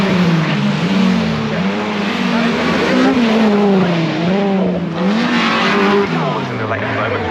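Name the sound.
Honda Civic race car driving through a corner at Cadwell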